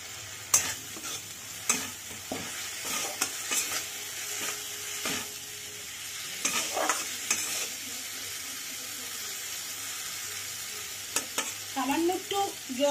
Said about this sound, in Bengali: কাঁচা লঙ্কা, হলুদ সব দিয়ে একসঙ্গে মশলাটা একটু কষিয়ে নেব।